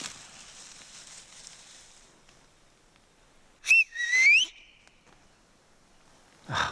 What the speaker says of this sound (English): My whistle could be mistaken for a bird off in the distance.